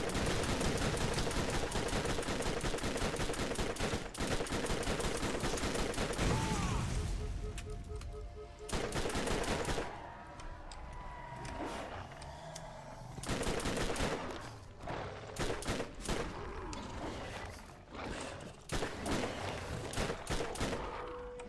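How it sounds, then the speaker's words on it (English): Rapid SMG gunfire from the video game Borderlands, dense automatic bursts that fill the first seven seconds, then shorter sharp volleys with gaps and scattered game effects, loud and close throughout. "let's switch into the SMG here"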